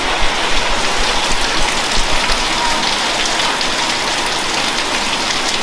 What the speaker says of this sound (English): the rain that thunder was promising has come